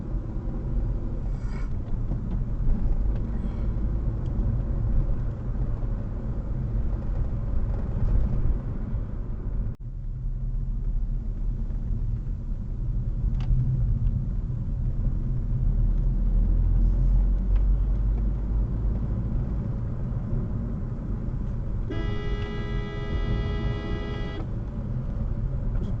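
A car drives a hilly road in Barmura, Tripura, giving a steady, close engine and road rumble throughout, with a brief higher mechanical whine near the end.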